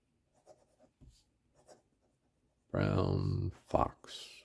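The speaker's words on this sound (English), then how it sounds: "So I'm going to just write" A Lamy 2000 piston-filler fountain pen scratches across paper in short, faint strokes, followed by a louder burst of continuous scratching and a few final quick strokes.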